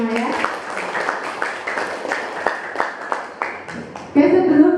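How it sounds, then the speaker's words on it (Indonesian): Classroom students give a round of applause during a vocational high school lesson, a quick irregular patter of claps close by that ends as a voice begins speaking. "tepuk tangan buat kalian semua ya"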